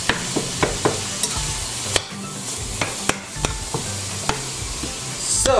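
Ground beef with onion and garlic sizzles steadily in a pan, broken by sharp clicks and scrapes from a utensil stirring and mashing the meat.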